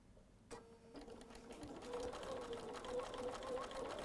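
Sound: Bernina sewing machine sewing quilted fabric

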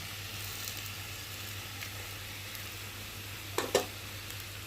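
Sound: stir-frying taro, potato and prawns with spices in pan

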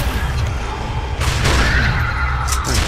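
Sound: gunfire in the video game Judge Dredd: Dredd vs Death

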